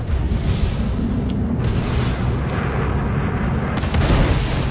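Spaceship weapons in Star Citizen unleash a dense, loud barrage of booming blasts that run continuously from start to finish with no pauses, heavy low-end rumble throughout.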